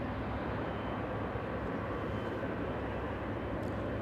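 Airliners taxiing at LAX, All Nippon and Eva jets on a taxiway, heard as a steady, broad distant engine rumble and hiss that holds even throughout without breaks.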